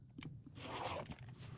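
Fabric being trimmed for a quilt block: one brief, faint scraping cut lasting about half a second, with quiet handling noise before and after and no speech.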